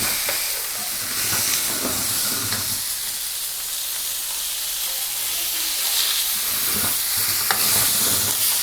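Fish frying in a pan for a Kerala-style fish moly, a steady close sizzle with soft scraping as the pieces are turned over, no talking.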